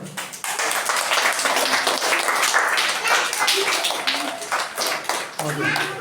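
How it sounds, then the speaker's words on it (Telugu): Schoolchildren clap in quick, scattered bursts at a 2024 Independence Day celebration at Kodandaramapuram school, under continuous nearby talking. "చప్పట్లు కొట్టండి అందరూ."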